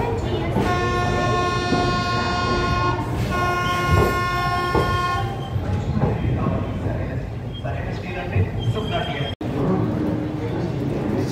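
The Tungabhadra Express pulls out of Secunderabad station with a long, sustained horn over rolling rail noise, followed by clattering movement and a busy platform background with faint voices.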